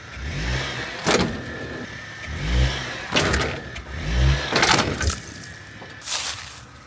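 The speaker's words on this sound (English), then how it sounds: "hooked it up to the tow part of my truck, and we're gonna give her a couple of yanks and see what happens" A pickup truck pulls on a wrecked Honda Fit with a tow chain, engine revving in several surging bursts with rough clunks and strain between pulls, fairly close and loud.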